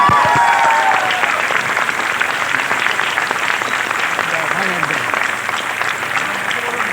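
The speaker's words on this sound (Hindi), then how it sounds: "আরেকবার জোরদার হাততালি হয়ে যাক।" An audience at a leadership training event bursts into loud, sustained applause, many hands clapping at once in a thick crackling roar. Voices can be heard faintly through the clapping.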